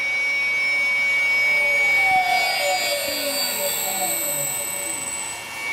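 A small electric motor run from a Powtran VFD winds down steadily, its whining tones sliding lower in pitch over several seconds, loud and close against a constant high hum.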